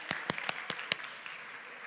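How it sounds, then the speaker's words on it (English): An audience at a business talk claps for itself: a handful of sharp, distinct handclaps in a quick, uneven rhythm, then a few softer scattered claps trailing off into quiet. "Give yourselves a round of applause"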